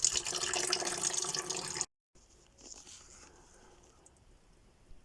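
Coolant drains out of a Citroen C3 cooling system with a loud splashing gush that stops abruptly, followed by quieter trickling and scattered drips.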